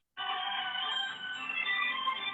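A telephone ringing indoors with a steady electronic tone that starts abruptly and keeps sounding, moderately faint.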